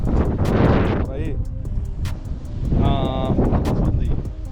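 Wind buffets a microphone outdoors in loud, rumbling gusts, with other background sounds mixed in.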